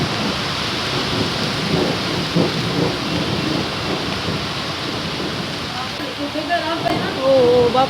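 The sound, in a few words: thunderstorm with heavy rain and wind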